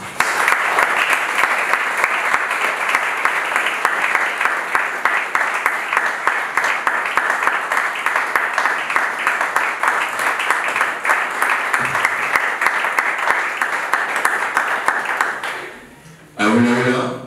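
Audience applause welcoming an author on stage, a loud, continuous crowd clapping sustained for about fifteen seconds before it cuts off and a voice begins speaking near the end.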